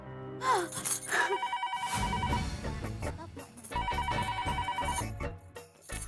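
A telephone rings in repeated bursts as a woman calls her mother in a Hindi TV sitcom scene, with background music and brief voices around the rings.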